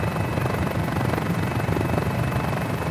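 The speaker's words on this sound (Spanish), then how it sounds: "nos encontramos en autorrotación a bordo de este Revolution Mini 500, helicóptero monoplaza" Revolution Mini 500 single-seat turbine helicopter in autorotation over Rome, giving a loud, steady rotor and engine drone that fills the cabin without a break.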